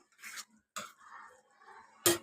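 Spoon stirring sugar and salt into curd with sabudana in a bowl, a few close, soft scrapes and clinks of metal against the dish, ending in one sharper knock.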